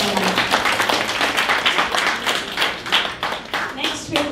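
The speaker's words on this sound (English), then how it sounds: "So once again, a big round of applause for Mr." An audience claps warmly for an electric sitar performer at a Tagore evening honouring the Bard of Bengal, the dense applause steady and close, with a voice speaking over it.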